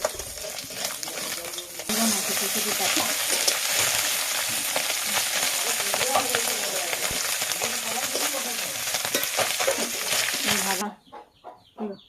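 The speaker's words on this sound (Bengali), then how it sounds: "এইভাবে আমি মাছগুলো ভেজে নিব।" Fish fry in oil in a wok, a loud steady sizzle that dominates most of the stretch, with quieter kitchen sounds before and after and a faint voice at times.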